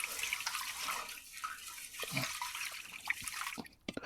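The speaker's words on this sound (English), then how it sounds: "So basically when you start washing the rice, you see the water gets cloudy." Sushi rice being rinsed by hand in cold water, with a steady wet swishing and trickling that sits close and moderately loud, then thins out near the end.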